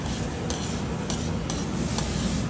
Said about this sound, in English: The whole part of this to make it super creamy is stirring the pasta constantly